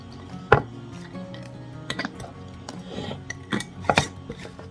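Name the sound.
handful of freeze-dried sliced zucchini thrown into a pan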